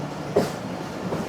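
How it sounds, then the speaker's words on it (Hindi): A Pakistan Railway express, the Pak Business Express, rolls slowly through a station, heard as a brief low rumble with one clunk of wheels over the track. "6:40 पर ट्रेन हमारी पहुंच गई है अंगशाही स्टेशन और यहाँ बहुत ही स्लो स्पीड में"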